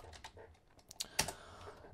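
Computer keyboard typing during 3D effects work in Houdini software, a few scattered key clicks at close range, uneven rhythm, quiet with a sharper click near the end.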